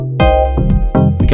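A bright FM synth tone with a crystalline, glassy top and an echo effect, playing a short sequence of about four notes, each with a sharp attack and sustained harmonics, loud and close with no voice.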